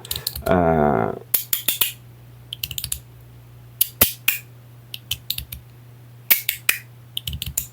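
Crisp clicks from a magnetic fidget toy with extra detents, a loud burst of clatter at first, then scattered single and double snaps in uneven bursts, close by, with talk heard between them.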